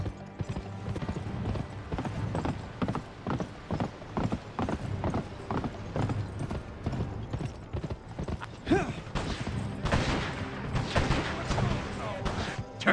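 Rapid rhythmic hoofbeats of a galloping horse with a brief whinny in the video game Gun, continuous and mid-distance, over a busy game soundscape with background effects.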